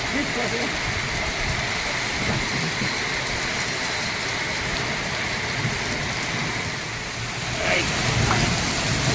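Heavy rain pours steadily on surfaces, a dense continuous hiss with a brief swell near the end. Voices are faint beneath it.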